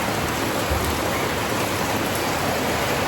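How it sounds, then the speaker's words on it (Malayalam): Heavy rain pours down steadily, a dense, continuous broadband hiss with no pauses, loud and close, as water floods into a home kitchen. "ഭയങ്കര മഴ."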